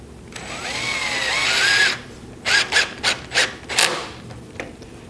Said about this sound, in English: is to screw this lower rail into the bottom shelf. Two-inch square drive screws do the trick.